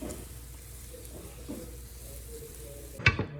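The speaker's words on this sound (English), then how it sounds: "once you get the cheese in there, I kind of just stir it around" Cheese is stirred as it melts in a pan over very low heat, a soft continuous sizzle with faint scraping, ending in a sharp clank of utensil against the pan.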